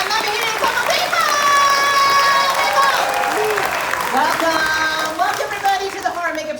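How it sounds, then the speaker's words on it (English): Crowd applauding and cheering for the host at the start of the Horror Make-Up Show at Universal Studios Orlando, a loud, continuous clapping wash with excited whoops and children's voices through it. "how about a nice round of applause for the host of today's show, Alex Ross"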